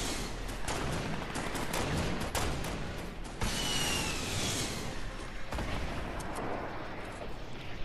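Pistol shots in the Fortnite video game, several sharp cracks spaced irregularly over a dense, steady background of noisy game sound.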